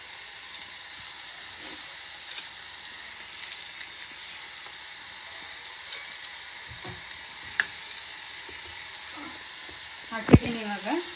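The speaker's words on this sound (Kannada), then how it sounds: "ಹಿಂಗೆ ಫ್ರೈ ಮಾಡಬೇಕು, ಚೆನ್ನಾಗಿ ಫ್ರೈ ಆಗಬೇಕು." Whole spices such as star anise, cloves and cumin sizzle steadily in a hot pan for chole, a soft continuous crackle with a few stirring clinks and a louder scrape near the end.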